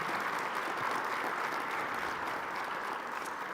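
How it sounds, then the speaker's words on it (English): Sustained audience applause at a GEOINT 2022 keynote, a dense, steady wash of clapping from a large crowd that holds at an even level throughout with no talk over it. "So please, a round of applause for our future NGA director."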